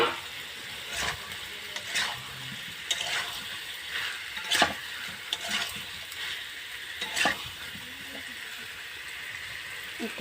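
Boiled taro and potato are stirred into spiced oil in a pan, a soft sizzle running underneath repeated scrapes and clinks of a spoon against the pan.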